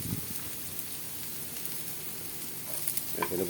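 Garlic and ginger sauté in hot oil in a pan for ginataang manok, giving a steady close sizzling hiss with light stirring scrapes, and a few brighter spatters near the end.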